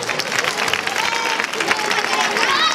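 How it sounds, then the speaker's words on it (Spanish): A crowd claps loudly for the inauguration of a bandstand in a neighbourhood of Las Marismas, continuous dense applause with some cheering mixed in. "Un fuerte aplauso para ellos."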